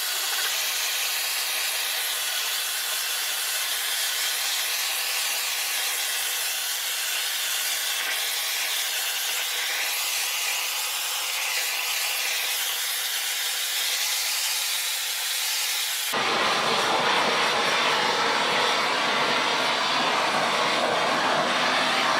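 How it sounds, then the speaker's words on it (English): A small propane torch burns with a steady, loud roaring hiss close by, holding for about sixteen seconds before shifting abruptly to a harsher, brighter roar, with no talk. "I'm going to be using a small torch because it's not a big area"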